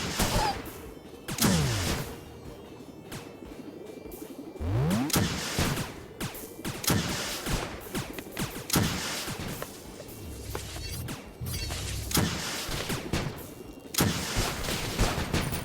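Rockets firing in the game Expiebound, loud whooshing launches followed by crashing blasts and rapid gunfire-like bursts scattered throughout, with no talking.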